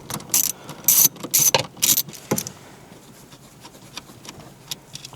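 Ratchet with a long 10mm socket loosening the bottom shifter bolt on a Subaru WRX, a series of loud, close clicking bursts with a quick rhythm, then quieter scattered handling clicks as the bolt comes out.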